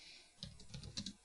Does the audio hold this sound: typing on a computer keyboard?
yes